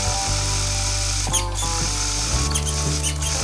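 A worn MKS steering servo on an RC Capra crawler straining against a left turn, a loud, close, buzzing mechanical whine with a steady tone that shifts pitch twice as the motor labours.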